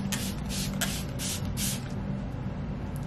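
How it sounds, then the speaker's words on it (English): Smashbox Photo Finish setting spray misted onto a face in several short, close hissing bursts, quick and breathy against steady room noise. "Let me give a quick spray to the face."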